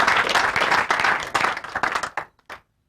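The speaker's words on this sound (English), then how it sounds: "So let's give him a big round of applause." An audience applauds a president at an institute event in Nigeria: dense, loud clapping that thins into a few scattered claps and stops abruptly, ending in silence.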